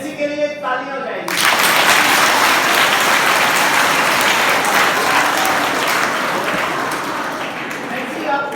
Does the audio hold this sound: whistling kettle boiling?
no